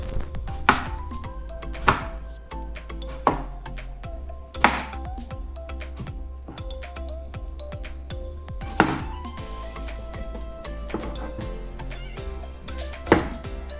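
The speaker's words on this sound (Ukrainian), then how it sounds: "Тепер нарізаємо огірок." A knife chopping cucumber on a cutting board for a salad, giving about eight sharp, separate knocks spaced irregularly over a steady low kitchen hum, close and fairly quiet, with no voices.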